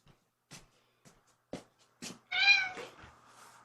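A shy cat gives one drawn-out, close meow after a few soft shuffling and handling sounds in a quiet room.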